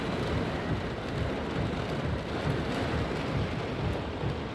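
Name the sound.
heavy rain outside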